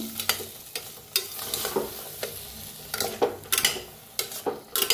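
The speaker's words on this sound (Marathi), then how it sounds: "आता जो मसाला आपला उरला होता ते बी सगळा भाजून घेऊया तेलात।" Spiced masala fries in hot oil for Hyderabadi-style brinjal, giving a soft steady sizzle broken by repeated sharp scrapes and clinks of a spoon stirring against the pan.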